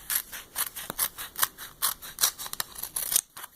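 Scissors snip through transparency sheet and tape in a quick, irregular series of about a dozen crisp cuts, close up and dry-sounding with no talking.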